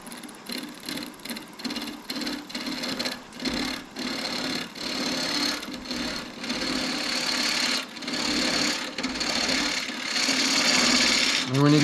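A wood lathe spins a Pacific yew piece at speed, a steady motor hum with rhythmic rough pulses and swells as the turning runs on, close and continuous, with speech likely mixed in.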